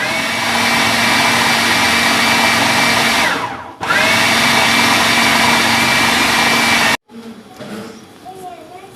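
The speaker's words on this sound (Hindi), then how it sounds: "आधा मैं इसके अंदर पीसूँगी।" An electric chopper grinds minced meat with spices for chapli kebab, a loud, close, steady motor whine that stops briefly, restarts, then cuts off, leaving quieter handling sounds.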